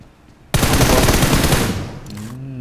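Automatic gunfire in the video game PUBG Mobile bursts out suddenly as a loud, dense rattling volley lasting about a second and a half, then fades into a short electronic tone, with no talking.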